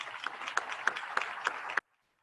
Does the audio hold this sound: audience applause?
yes